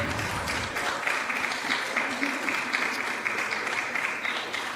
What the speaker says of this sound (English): Can we give both of them a round of applause as they do exit?